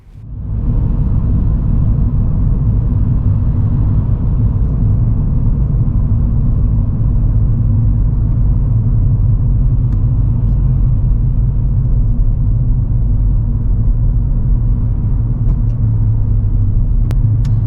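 A car cruises steadily in third gear on a driving lesson, its engine and road noise making a loud, constant low rumble from inside the cabin with no talking.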